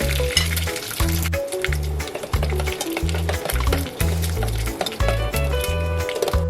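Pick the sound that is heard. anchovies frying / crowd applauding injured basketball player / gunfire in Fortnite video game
anchovies frying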